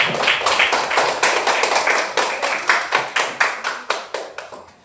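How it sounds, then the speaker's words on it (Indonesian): A group gives a round of hand clapping at a community gathering, close and fairly loud, with dense claps that thin out into slower, scattered claps as the applause dies down, with no talking over it. "berikan tepuk tangan aplaus pada kelompok 1"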